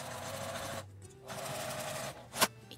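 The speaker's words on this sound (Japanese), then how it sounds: "上端にミシンをかけます。" A sewing machine stitches along the top edge of ordinary lined fabric about 5 mm in, for a wet-wipe cover: a close, steady mechanical whir that stops briefly, resumes, then ends with a small clack.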